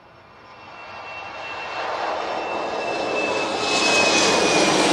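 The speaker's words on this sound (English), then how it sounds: "KLM, Embraer, now on the roll," A KLM Embraer jet rolls down the runway at Manchester Airport, its engine roar steadily building in loudness over a few seconds, heard from a distance with a faint high whine, no voices.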